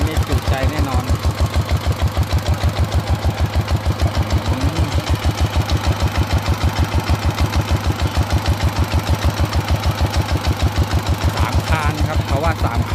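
A single-cylinder motorcycle engine runs steadily with a fast, even thumping pulse, loud and close throughout, with some speech under it.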